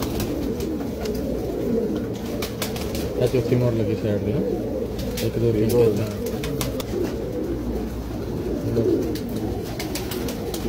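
Pigeons coo softly in a low, continuous murmur while someone talks and counts over them close by.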